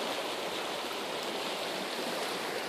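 A small river in New Mexico flows steadily over rocks, a constant broadband rush of water heard alone with no voices.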